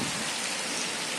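Steady rain falls outside an open window during an afternoon storm, a dense, even hiss of drops close by with no pauses and no talk over it.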